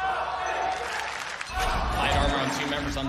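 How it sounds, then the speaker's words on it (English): A crowd at a Valorant esports match between Optic Gaming and Paper Rex cheers and starts a chant, rising and swelling midway through, with someone talking over it. "They started a chant."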